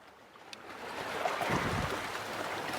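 A wave surges and breaks against rocks on a rugged shore, a quiet wash that swells to a rushing crest midway and then lingers as foamy hiss.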